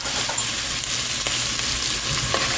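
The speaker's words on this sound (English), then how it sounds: "just cook in with the onions and the ground beef" Frozen vegetables frying in a pan with onions and ground beef for shepherd's pie, a steady, loud hiss of sizzling with occasional faint stirring clicks, close up.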